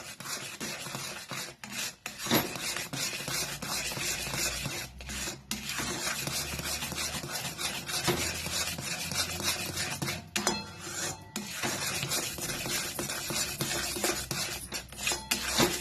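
A spoon scraping and rubbing continuously around a pan while stirring a milk powder mixture for sweets, a close, steady rasping texture with brief pauses and no talking.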